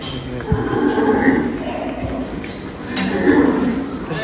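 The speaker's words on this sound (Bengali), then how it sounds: "কত সুন্দর একটা গরু দেখতেছি।" A Qurbani cow at an agro farm gives low lowing calls close by, mixed with people talking nearby.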